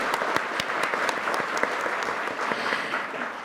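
Audience applause at a National Assembly policy forum on converting firefighters to national civil servants, a steady round of many hands clapping indoors, dense and even throughout with no voices over it.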